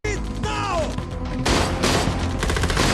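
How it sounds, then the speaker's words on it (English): Film gunfire erupts as a man is pinned down by shooters. The loud bursts follow one another over tense music with brief vocal sounds and whooshes, building into a dense, continuous fusillade. "Before making it into the office, Hutch was trapped because Yulian's men kept shooting at him."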